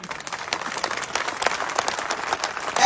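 Audience at a live political speech in Jhunjhunu breaks into loud, continuous applause, a dense patter of many hands clapping steadily throughout without pause.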